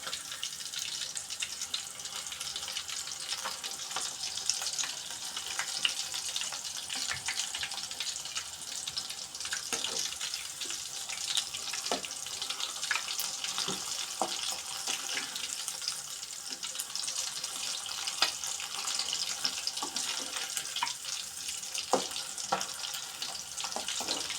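Squid pieces frying in hot oil in a pan, a steady close hiss of bright bubbling sizzle with scattered sharp pops and crackles running throughout, no voices.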